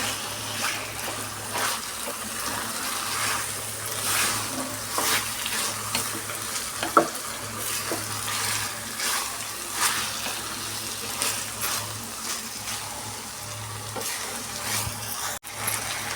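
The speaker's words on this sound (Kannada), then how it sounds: "ಈ ಥರ ಫ್ರೈ ಆಗ್ತಾ ಇದ್ದಾಗ ನೋಡಿ" Chicken bassaru masala fries and sizzles in a pan, with a steady hiss and repeated scraping as it is stirred, close and fairly quiet with no talk.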